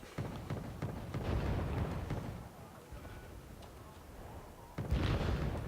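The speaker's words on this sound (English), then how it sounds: "At this point, Dan saw a UAZ, which I tried to fire artillery on, but I did not hit it." Artillery fire in the Wargame strategy video game comes as muffled, rumbling booms and bursts under an ongoing voice, with a heavier impact near the end.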